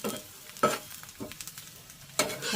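Sliced bitter gourd frying in oil is stirred and tossed, giving a quiet sizzle with a few sharp scrapes and clatters of the spatula.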